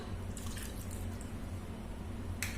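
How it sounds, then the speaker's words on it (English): A quarter cup of water is poured into half a cup of white glue for slime, giving a faint, soft trickle and a few drips close by against quiet room noise. "Now to that I am going to add 1/4 cup of water."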